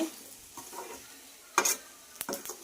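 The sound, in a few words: stirring chicken pachadi in a pan after adding chili powder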